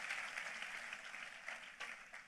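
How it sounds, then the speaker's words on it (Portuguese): A church congregation applauds in a steady, dense patter of many hands clapping that carries on throughout, moderately faint and heard alone without talking. "Vamos aplaudi-lo, porque nós temos a quem clamar"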